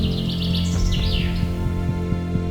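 Birds chirp and sing in a series of bright, quick tweets over a steady low hum and faint rhythmic background thumps, fairly close and clear, with no talk.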